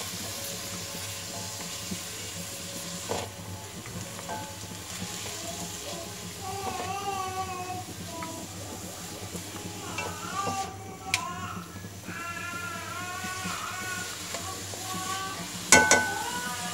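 Mixed vegetables sizzling in a pan for restaurant-style Chinese fried rice, a steady low frying hiss with occasional stirring scrapes and a few brief louder clatters, no voices.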